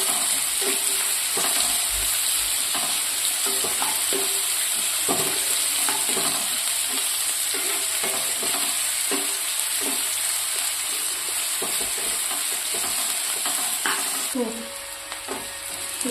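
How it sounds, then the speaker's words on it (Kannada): Onions for cabbage palya fry in a pan, a steady close sizzle with repeated scraping and stirring strokes throughout, no speech. "ಸ್ವಲ್ಪ ಮೆತ್ತಗಾಗೋ ತನಕ ಹುರ್ಕೊಳ್ಳೋಣ."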